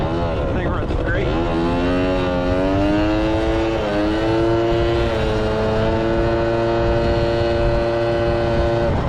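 A vintage Suzuki LT80 quad engine runs close by and revs, its pitch climbing in a few steps and then settling into a steady, buzzing drone.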